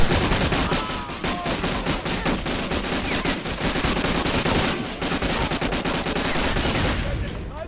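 Kilo rifle fire in a video game: sustained rapid automatic bursts in close, loud, almost unbroken volleys with brief gaps, running for several seconds with heavy layered gunfire.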